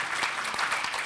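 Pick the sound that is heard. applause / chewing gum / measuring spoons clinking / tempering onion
applause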